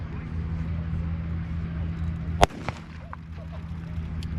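A single 7.62 sniper rifle shot at an outdoor military show, one sharp report that stands out over a steady low engine hum.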